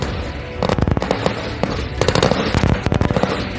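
Machine gun fire in rapid bursts, crackling sharp reports running in quick succession with brief gaps, fairly loud over a rumbling background.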